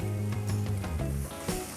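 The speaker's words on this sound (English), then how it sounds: "You want that grill nice and hot so that when you put on that chicken, it sizzles" Barbecue chicken pieces sizzle steadily on a hot grill, a continuous close hiss over a low tonal hum, with no talking.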